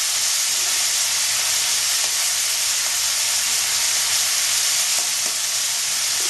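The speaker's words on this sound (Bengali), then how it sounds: "মাছটা যতক্ষণ না লাল হয় ততক্ষণ ভাজতে থাকবো" Prawns frying in hot oil with panch phoron for a Bengali cabbage and prawn dish, a steady loud sizzle and hiss with occasional faint stirring clicks, no talking.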